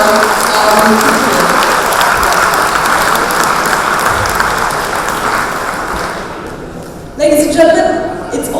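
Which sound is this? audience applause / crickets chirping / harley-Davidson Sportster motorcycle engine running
audience applause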